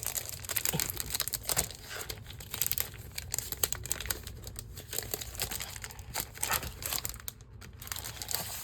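Paper packaging crinkled and handled while unboxing a paper pack from a scrapbooking kit, heard as continuous close, dense rustling and crackling with irregular bursts, without speech.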